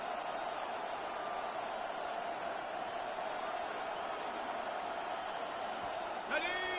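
Stadium crowd noise in the football video game Madden NFL 26: a steady, dense roar that holds at an even level throughout, with a brief shift near the end.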